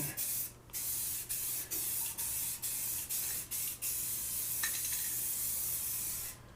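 Light coat of spray paint going onto a stove top cover: a series of short aerosol bursts, roughly a second each with brief gaps, close and fairly quiet, then a longer final spray, no talking.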